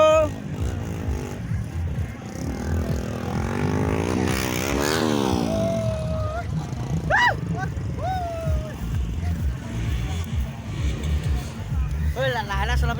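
A motorcycle engine rumbles steadily throughout, with a rising rev partway through and people talking over it.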